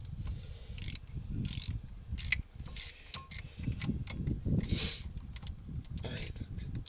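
Ratchet wrench with a 13 mm socket working on a Peugeot 407 front brake job, quick bursts of ratcheting clicks in irregular spurts mixed with clanking tools, close by, with a voice talking underneath.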